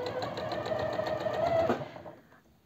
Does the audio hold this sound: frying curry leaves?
no